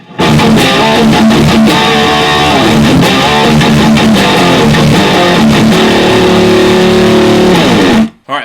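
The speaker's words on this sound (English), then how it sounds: "I'm using a Friedman Small Box 50. It's turned all the way up." Friedman Small Box 50 guitar amp turned all the way up inside an isolation cabinet with its first lid removed, giving a loud, continuous distorted electric guitar riff with sustained chords and choppy strums, stopping abruptly near the end.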